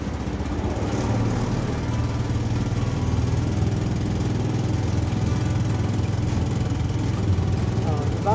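Vehicle engine running steadily during a test drive, a continuous mid-pitched drone with people talking over it.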